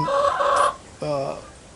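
Buff Orpington-type dual-purpose hens raised for brown eggs and meat cluck nearby in two short bursts, loud and close, with a brief pause between.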